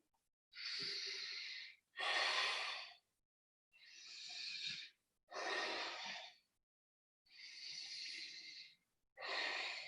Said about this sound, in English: Breathe into it.